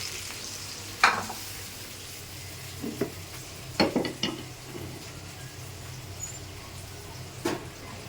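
Hilsa fish fry in hot oil with a faint, steady sizzle, broken by a few soft clinks and scrapes of a utensil against the pan.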